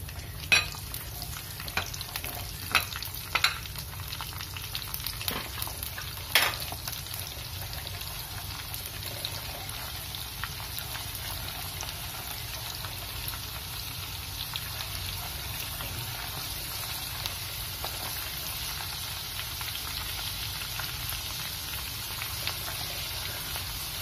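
Whole garlic cloves frying in oil in a pan for mango pickle, giving a steady, soft sizzle with a few louder crackles and pops near the start, then settling into an even, quiet hiss with no talking.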